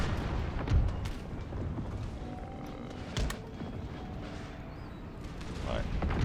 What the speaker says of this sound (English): there's multiple cannons firing canister on him